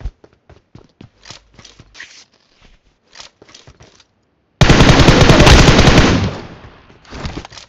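Gunfire in the mobile battle royale game BGMI: sparse scattered single shots and short clicks, then a sudden loud sustained burst of rapid automatic fire that tails off, followed by a few more shots.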